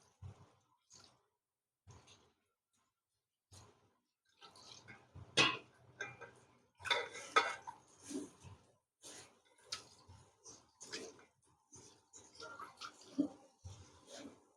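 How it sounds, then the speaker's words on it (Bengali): Water splashes and sloshes as a basin is rinsed by hand, in scattered bursts of dripping and swishing, close and moderately quiet, with pauses between. "আমি একটা গামলা নিয়ে নিলাম, আর গামলাতে একটু ধুয়ে নিচ্ছি।"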